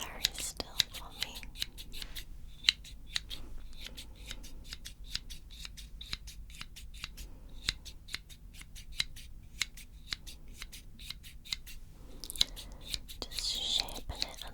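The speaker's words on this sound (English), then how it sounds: "I'm going to give it a little bit of a trim first of all." Scissors snipping hair during a close-miked ASMR barber haircut, a steady run of crisp metallic clicks with a quiet stretch midway and soft whispering near the start and end.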